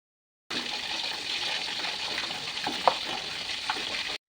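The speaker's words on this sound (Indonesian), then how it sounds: "Ini tuh ikannya saya goreng satu persatu" Fish frying one piece at a time in hot oil in a home kitchen: a steady, close sizzle and crackle runs throughout, with a couple of brief sharper pops near the end and no talking.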